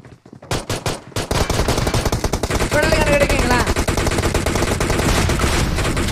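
Loud, sustained automatic gunfire in PUBG Mobile, a few opening shots followed by rapid continuous bursts with a brief whistling tone in the middle.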